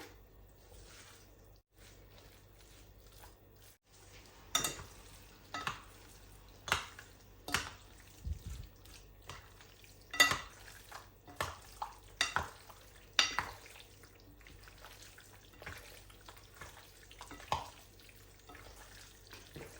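Raw meat being mixed by hand into a watery marinade with chili for Iraqi shawarma, giving soft wet squelches and occasional sharper slaps in an irregular rhythm, close and fairly quiet, with no talking.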